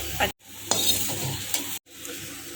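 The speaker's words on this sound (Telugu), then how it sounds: "దీనిలో కరివేపాకు కూడా వేసి ఫ్రై చేసేసానండి తాలింపు అయిపోయింది" A tempering of curry leaves for ajwain leaf chutney sizzles and fries in a pan. It is stirred steadily, with close, continuous crackling broken by two brief silent gaps and no talk.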